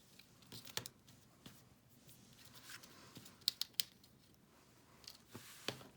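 Scissors trim the ends of a ribbon bow on a gift card holder, producing a few faint, crisp snips amid quiet handling clicks in a hushed room.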